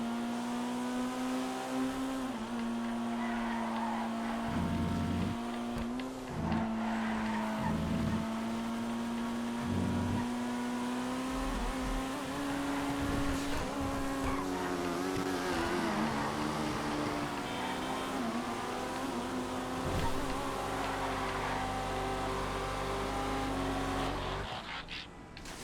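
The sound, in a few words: race cars driving in GTA FiveM video game race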